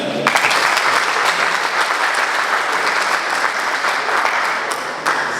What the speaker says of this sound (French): Est-ce que vous pouvez d'abord applaudir pour vous-même?